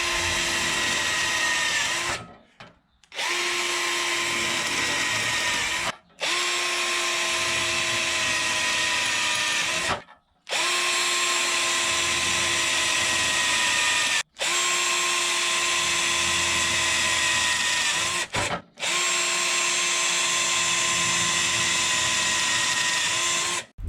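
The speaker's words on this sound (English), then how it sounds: "now we can go back and drill some more again" A power drill whines steadily in long bursts, stopping briefly between runs, with a high metallic grinding edge as it bites through the thin sheet metal of a Mercury Sable station wagon rocker panel.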